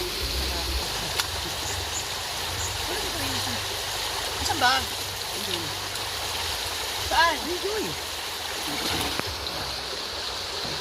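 Free-flowing water runs steadily while a motor tricycle is washed in a rural province, a continuous stream-like rush of moderate loudness with a few brief splashes, as people talk over it.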